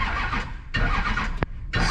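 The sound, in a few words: Chevy LBZ Duramax truck engine cranking and cutting out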